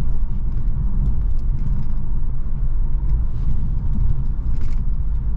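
Interior rumble of a 2023 Infiniti Q50 AWD on a bumpy back road: a steady low engine and road drone with scattered knocks and rattles from the rough surface, close and continuous.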